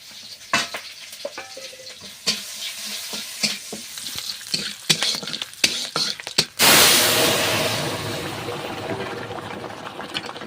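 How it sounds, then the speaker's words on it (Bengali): Green chilies, mustard seeds and bay leaves hit hot oil in a pan, giving a loud, close, steady sizzle that follows several seconds of scattered clinks and stirring taps, with no talk. "কাঁচা লঙ্কা দিচ্ছি একটু সর্ষে ফোড়ন দিচ্ছি আর দুটো তেজপাতা"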